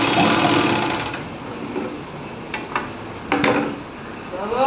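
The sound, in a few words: overlock sewing machine running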